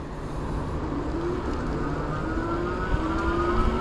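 Velotric Discover 2 e-bike motor running on throttle only, a smooth steady electric whine rising slowly in pitch over constant wind and road rush, continuous and close.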